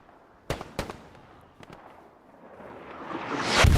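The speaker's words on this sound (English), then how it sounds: "Ivan gets decimated by an arty shell." An artillery shell explodes in the World War II shooter Hell Let Loose, on the Kharkov map: sharp distant blasts, then a rising rush that ends in a loud, close detonation.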